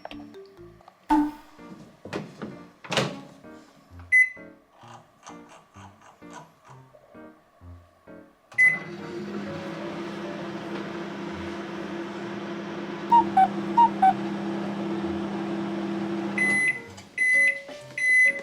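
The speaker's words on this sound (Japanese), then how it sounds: "こういうふうに少し隙間を空けて電子レンジに入れてください" A microwave oven defrosting a frozen container of Taiwanese mazesoba hums steadily for several seconds after a few clicks and beeps, with small popping sounds during the run and beeps near the end.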